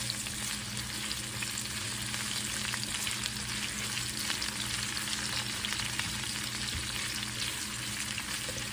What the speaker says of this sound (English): And we're just going to get in here and saute them.